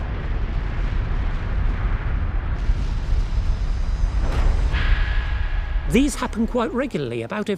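A large explosion sound effect depicting a nova in a documentary, a sustained loud rumbling roar that swells and fades, with a rising whistling tone and a voice speaking over the end.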